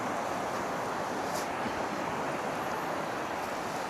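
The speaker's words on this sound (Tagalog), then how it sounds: "malakas po yung alon" Strong sea waves and wind at night during shore fishing make a continuous broadband roar, loud and unbroken, with no talking.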